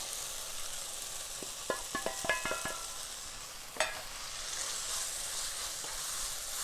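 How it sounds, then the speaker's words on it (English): Spices added to frying Nepali-style chicken chilli make a low, steady sizzle broken by a few quick taps and light clinks of a utensil against the pan. "Now at this point I'm gonna add in all my spices."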